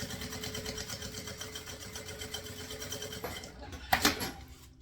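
A sewing machine steadily stitching satin for a round bag, a continuous close mechanical whir that stops near the end, followed by a short clatter of handling.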